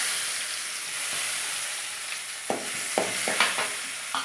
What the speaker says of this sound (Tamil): வெங்காயம் தாளிக்க போடுறோம்.